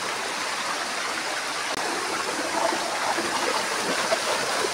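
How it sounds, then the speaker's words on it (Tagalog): Water from Nitira Falls rushes continuously at the foot of the falls in a mountain setting, a loud, steady roar of falling and splashing water with no voices heard. "Kaya na nga, finally, nandito na tayo sa baba, sa paanan ng Nitira Falls."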